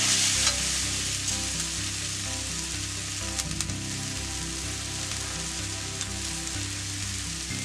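Onions and curry leaves frying in oil in a pan for Kerala egg roast, a constant dense sizzle with a low rhythmic hum beneath and brief scraping ticks midway.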